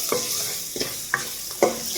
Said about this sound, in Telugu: ఈ పోపు దినుసులు అనేవి బాగా ఫ్రై అవ్వాలండి